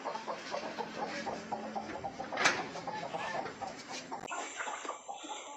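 A village chicken clucks in a quick, repeated run of soft calls, fairly faint against a quiet outdoor background.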